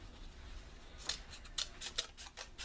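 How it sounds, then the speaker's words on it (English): Scissors snipping duct tape pieces for a craft build: a quiet start, then a run of about six crisp, evenly spaced cuts, close and clear with no voices. "I'll go ahead and cut these out to make the extra end pieces."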